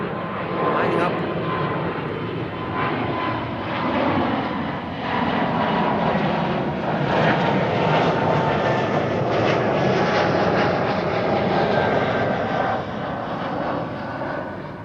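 KLM Embraer regional jets at Amsterdam Schiphol Airport put out a continuous, fairly loud engine whine and rumble that holds steady throughout.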